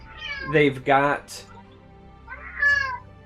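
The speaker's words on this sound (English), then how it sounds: "Yeah, that's a cat." A cat meows twice in quick succession close to the mic, then lets out a softer third meow after a pause, with a voice speaking briefly in between.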